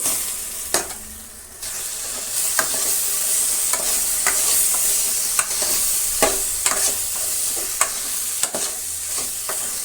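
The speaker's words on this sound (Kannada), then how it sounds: "ಚೆನ್ನಾಗಿ ಹಾರ್ಡ್ ಆಗೋ ತನಕ ಹುರಿಬೇಕು ಈ ರಸ ಎಲ್ಲ ಹೀರ್ಕೊಂಡ್ಬಿಡುತ್ತೆ ಅಷ್ಟು ತನಕ ಫ್ರೈ ಮಾಡೋಣ" Okra (ladies finger) frying in tamarind juice in a pan, a steady close sizzle broken by regular sharp scrapes and taps of a spatula stirring, with no talking.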